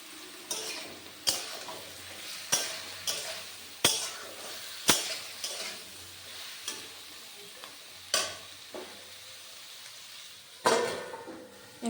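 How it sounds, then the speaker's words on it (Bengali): Drumstick stems frying with tomato, salt and turmeric for a Bengali chachhari are stirred in a pan, giving repeated sharp scraping strokes of the spatula over a soft, constant sizzle, close and at a moderate level. "স্বাদ মতো নুন দিয়ে দিলাম, হলুদ দিয়ে এবার ভেজে নেব।"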